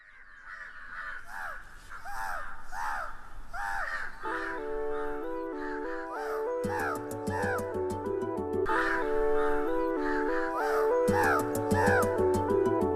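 Crows caw again and again in sharp, rasping calls at a steady pace, heard alone at first before bright music comes in and plays under them for the rest of the stretch.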